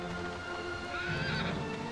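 Horses whinny in Dragon Quest VIII, a clear rising and falling neigh over a steady game background with faint hoof clip-clops, up close and without talk.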